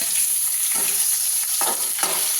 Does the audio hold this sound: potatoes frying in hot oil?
yes